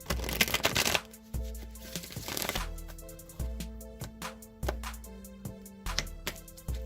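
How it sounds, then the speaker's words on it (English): Tarot cards are shuffled by hand in a run of quick riffling bursts and soft taps, close and crisp, with light music playing underneath. "All right, one more shuffle."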